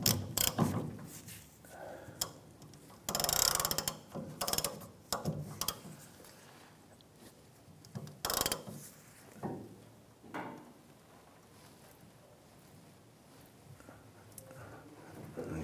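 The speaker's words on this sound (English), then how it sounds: "Using a 21 millimeter socket and ratchet, we're gonna go ahead and loosen this nut here" A ratchet with a 21 mm socket works loose a leaf spring shackle nut on a 1994-2004 Chevrolet S-10, giving short bursts of clicking and clanking near at hand, with bursts spread through the first ten seconds before fading to quiet.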